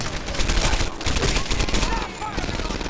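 Rapid light machine gun fire in Medal of Honor: Airborne, a dense continuous stream of close, loud shots rattling for a few seconds without pause.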